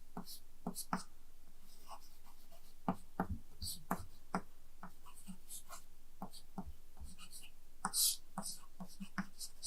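Writing during an MBBS class, heard as faint, scattered pen strokes and taps on paper at an irregular pace, with soft voice sounds in the background.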